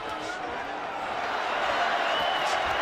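Boxing arena crowd at a Canelo Alvarez versus Alfonso Gomez fight, a steady broad roar of cheering voices that holds loud and continuous throughout, swelling slightly toward the end.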